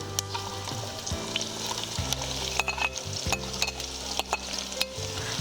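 Onions sizzling and frying in hot oil with cumin for chicken white pulao, a steady close crackle with occasional stirring scrapes and utensil clinks.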